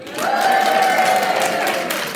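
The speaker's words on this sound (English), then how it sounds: "please can we have a cheer for the channel?" A large indoor audience of around 150 to 200 people at Slimcon 2018 breaks into a sustained burst of cheering and applause that swells within a moment and holds steady, loud and close, for about two seconds.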